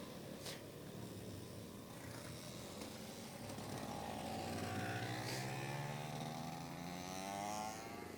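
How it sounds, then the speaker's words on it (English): Vintage racing karts from throughout karting history pull out onto the track at Shenington, several small buzzing engines passing at moderate distance with rising and falling pitch, one note climbing as a kart accelerates away. "And out go the first set of karts from throughout karting history"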